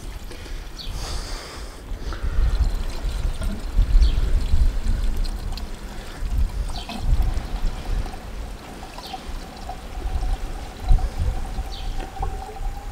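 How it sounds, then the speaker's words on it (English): Water gushes and splashes steadily from a hose for the whole stretch, a continuous rushing pour with some low gurgling underneath, fairly close. "we fill it with water and we let it work another 15 minutes"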